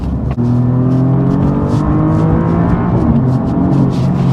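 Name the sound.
Alfa Romeo Giulia Quadrifoglio engine accelerating in dynamic mode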